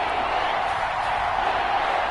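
An American football stadium crowd builds before a big third down as a steady, loud, unbroken roar of many voices.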